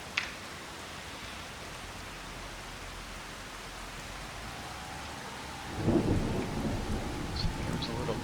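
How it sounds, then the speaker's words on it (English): Steady rain falls in Farming Simulator 25, with a distant thunder rumble swelling near the end under the constant hiss of the downpour. "Oh, and it started raining."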